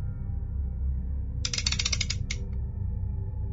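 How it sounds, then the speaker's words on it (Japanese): A wheelchair is pulled along a hospital floor in a horror story: a burst of rapid mechanical clicking and rattling, like a ratchet or small wheels, lasts about a second over a low steady hum, followed by a brief second rattle. "車椅子を引く音"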